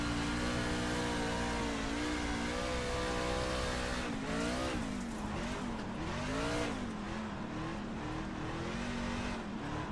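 A dirt race car in the iRacing sim at the Oswego dirt track drives and slides, its engine loud and continuous with pitch rising and falling as it revs through corners and tires scrub.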